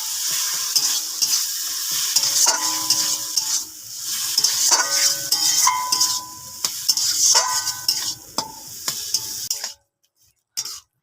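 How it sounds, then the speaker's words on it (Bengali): A spoon stirs eggplant mixed with crushed lentil dumplings in a frying pan, with steady sizzling and repeated scraping and clinking against the metal, then the sound cuts to near silence at the end. "বড়িগুলোকে শিলনোড়াতে ভালো করে গুঁড়ো করে নিয়েছি, বেগুনের মধ্যে দিয়ে দেবো। দিয়ে একটু নাড়াচাড়া করে লাগিয়ে নেব।"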